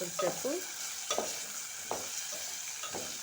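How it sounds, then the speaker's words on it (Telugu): Potatoes fry in hot oil with a constant sizzle, broken by four or five close scraping strokes as they are stirred in the pan. "ఆలు ఆలుగడ్డలు ఇలా నూనెలా వేయించాలి"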